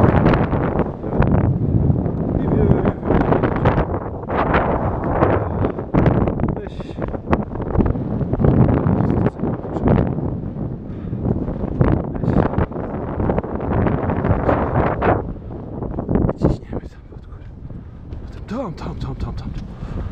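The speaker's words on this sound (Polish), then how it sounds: "Wieje wiatr mocno" Strong gusty wind buffets the microphone on a mountain summit in the Austrian Alps, loud, uneven roaring bursts throughout while a person talks.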